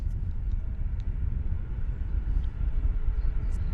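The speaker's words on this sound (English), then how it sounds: "we've got a lot of aircraft taxiing out here" Aircraft taxiing at Vancouver Airport give a continuous low, rumbling engine roar at a distance, steady and broad, with a few faint higher chirps above it.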